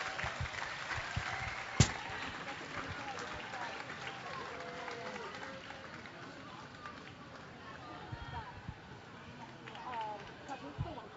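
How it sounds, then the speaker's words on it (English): An outdoor crowd at the Minnesota State Fair claps for the final class of a llama costume contest, with steady scattered applause under ongoing talk and one sharp bang early on. "One more round of applause for our final class in our costume contest."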